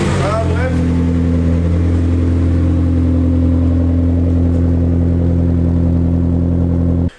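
An engine cranks and catches in the first second, then settles into a loud, steady idle with a deep even rumble that runs on until it cuts off abruptly at the end.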